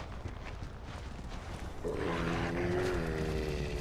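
A wolf in the Stone Age video game Far Cry Primal gives a drawn-out tonal howl starting about halfway through, over a steady low game ambience.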